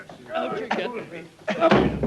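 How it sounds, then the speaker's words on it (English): A door slams shut with one sharp, loud bang in a scene aboard a ship's radio cabin in the vintage Dick Barton radio drama, landing in the middle of urgent, overlapping dialogue. "Outside! The door, Jock, quickly!"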